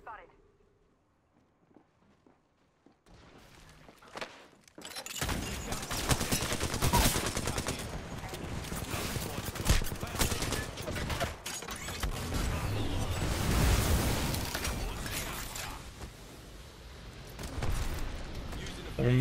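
Apex Legends gunfire erupts after a quiet start: sustained rapid automatic bursts and sharp shots, close and loud, with footsteps and mechanical clatter mixed in and a voice talking over the action.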